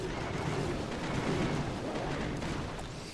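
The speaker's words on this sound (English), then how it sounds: "So our cannon cart can get one shot off on that giant cannon" Cannon cart firing on a giant cannon in Clash of Clans Builder Base: a steady, dense rumble of game artillery and impacts, with no talk over it.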